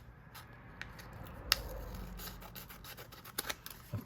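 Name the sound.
trimming paper with scissors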